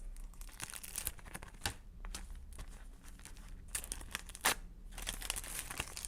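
A paper packet crinkles and rustles as it is stuck onto a page of a paper advent calendar craft, with close, soft scattered crackles and a few sharper crunches, no talk.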